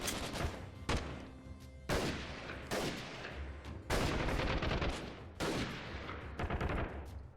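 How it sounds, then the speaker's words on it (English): Enemy gunfire in the PC shooter Freeman Guerrilla Warfare, desert bandits firing: sharp shots and rapid bursts crack every second or so amid a continuous rattle, fairly quiet overall and with no talking. "thankfully they're shooting at me"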